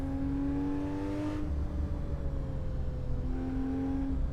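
A car engine droning steadily as it drives along a forest road in Assetto Corsa, with an even hum and a gear change partway through, no voices.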